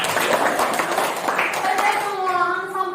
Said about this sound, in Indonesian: Kita beri tepuk tangan dulu untuk Kelly.